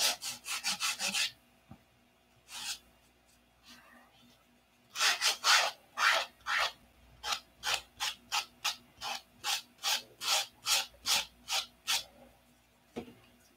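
Hand sanding of wood on a model P-47 Razorback: a rapid burst of rasping strokes, a lone stroke, then a long run of steady rhythmic back-and-forth rubs, close and fairly loud.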